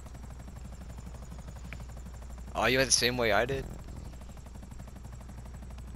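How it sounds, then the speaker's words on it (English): An attack helicopter in GTA Online drones steadily throughout as a low engine hum, with a person talking briefly over it midway. "It's the attack chopper without anything to it."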